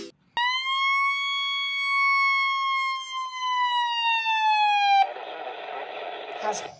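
Midland 74109 weather radio sounds a loud, steady electronic alert tone, a sustained harmonic beep held for about five seconds before cutting to a burst of radio static and noise.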